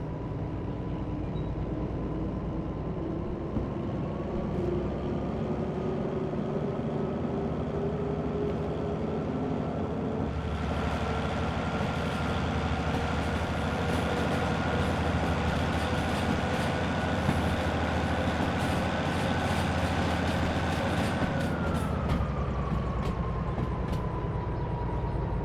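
Diesel locomotive engine in the Derail Valley train game, with a truck-like Kenworth character: a steady loud rumbling drone with a rising tone that swells midway, holds, then settles back, running continuously with no talk.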